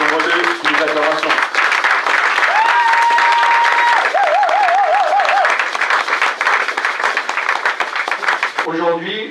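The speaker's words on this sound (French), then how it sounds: "Et qu'on relève sous les acclamations" Church congregation applauding and cheering as an evangelist is welcomed to the stage, loud dense clapping with voices, a tonal sweep and a short speaking voice at the start and end.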